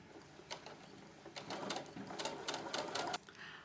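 A sewing machine stitches a quarter-inch seam in dark thread on a small Japanese-style fabric bag, a quiet run of rapid mechanical chattering in short uneven bursts close by.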